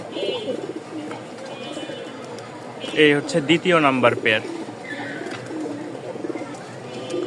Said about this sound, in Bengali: আজকে মাত্র আট পেয়ার কবুতর দেখাবো বেশি না শুধু আট পেয়ার কবুতর